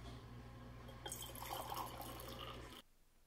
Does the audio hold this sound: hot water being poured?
yes